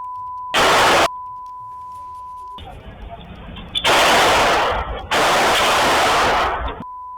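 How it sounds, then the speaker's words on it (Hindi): Loud bursts of gunfire from armed attackers outside a club in Delhi, arriving in three heavy blasts of noise broken by a steady tone. "और फिर ये फायरिंग"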